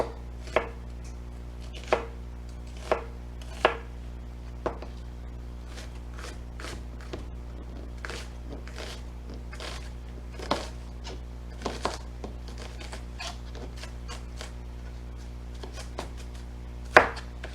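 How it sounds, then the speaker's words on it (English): Knife chopping vegetables such as onion, celery and red and green peppers into bite-size pieces on a board, with irregular sharp chops spaced about a second apart, close and clear, no talking. "I like to chop them bite size."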